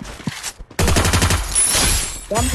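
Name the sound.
gunfire in the video game Free Fire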